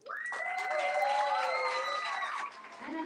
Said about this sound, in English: Can I get a round of applause for our MCs?